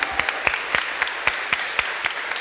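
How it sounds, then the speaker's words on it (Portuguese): A church congregation claps together in a quick, even rhythm, sharp rhythmic claps close by over a soft background of scattered applause. "Dá uma salva de palmas, queridos"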